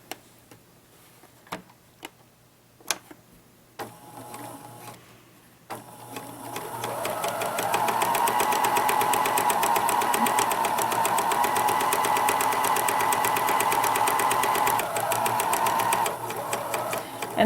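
After a few faint clicks, a sewing machine starts up and stitches a fabric curve, running steadily and loudly at close range with a fast, even mechanical whir for about ten seconds before slowing near the end.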